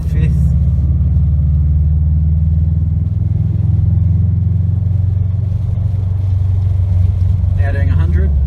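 A 2017 Subaru WRX STI fitted with an Invidia R400 cat-back exhaust cruises at highway speed in sixth gear, giving a steady, loud, low droning rumble throughout with little change in pitch.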